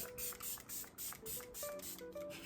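A quick series of sharp hissing bursts of makeup setting spray, several pumps in a row close by, with soft music playing underneath.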